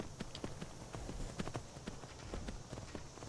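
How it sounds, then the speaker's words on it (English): Horse hooves clip-clopping downhill in the Skyrim video game, a steady run of rapid distinct hoofbeats at moderate level over a dense background of ambient noise. "going downhill on the horse"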